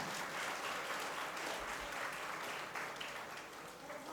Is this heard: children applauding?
yes